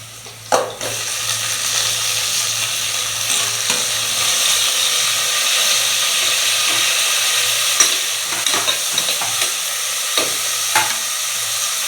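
Ginger and garlic fry in a pan for mushroom biryani, a continuous moderate sizzle broken by a sharp knock early on and scattered scrapes and taps of a stirring spoon, without speech.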